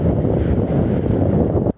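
Strong wind rising in a forest in Lapland, a loud continuous roar buffeting the microphone that cuts off abruptly at the end.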